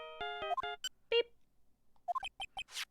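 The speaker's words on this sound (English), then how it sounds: "Mr. Nick, your phone. Hey, that's the Steel Samurai theme song, isn't it?" Phone ringtone playing the Steel Samurai theme song in the Phoenix Wright: Justice For All video game, a quiet, bright electronic melody of short stepped beeps in two bursts with a pause between them.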